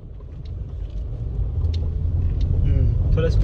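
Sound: car pulling away as clutch is released

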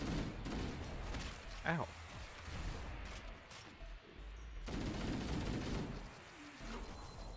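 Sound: turrets shooting in a video game

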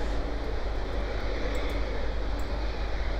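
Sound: space plane engines flying in Kerbal Space Program video game

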